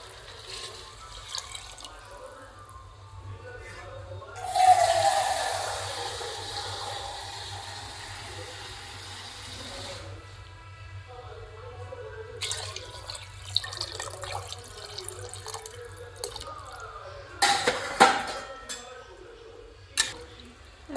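Water pours into a pressure cooker holding rice for vegetable pulao, a steady rushing stream of about five seconds, with light clatter and a voice talking around it.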